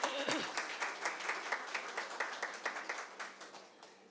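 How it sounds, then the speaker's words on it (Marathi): Audience applause at a family-festival convention, a steady crowd of many hands clapping close by and fairly loud, with rhythmic swells running throughout, no talk over it. "या नावावर आपण टाळ्या वाजवूया."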